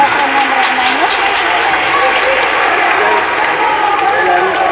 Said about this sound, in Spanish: Un aplauso para Antón